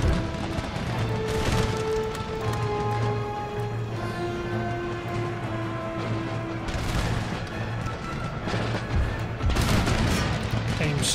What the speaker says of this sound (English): God alive, that's a lot of artillery.